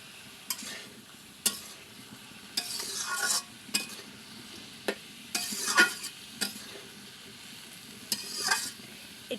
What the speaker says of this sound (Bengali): এবার আমরা ঢাকনাটা তুলে এটা ভালোভাবে নেড়ে চেড়ে দেবো।